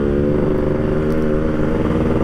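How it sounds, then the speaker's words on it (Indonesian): A Yamaha RX-King two-stroke motorcycle revs up close, its engine buzzing loud and continuous with a raspy, throbbing tone throughout. "Kayak gini, tarik kopling, gas."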